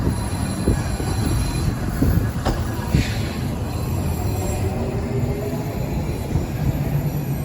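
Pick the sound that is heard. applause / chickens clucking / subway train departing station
subway train departing station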